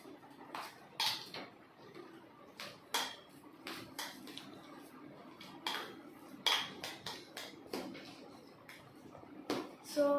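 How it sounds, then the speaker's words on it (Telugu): Spoon scraping and clinking in a pan as potato filling with turmeric is stirred, a series of sharp metallic taps and scrapes at irregular intervals, close and fairly quiet. "సో పసుపు వేసిన తర్వాత మళ్ళీ కలుపుతాం."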